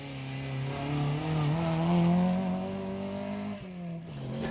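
A Ford Cortina GT rally car driving a Mid Wales forest stage, its engine holding a steady droning note that rises and wavers with revs, then drops sharply as the driver lifts off before pulling again, heard from moderate distance.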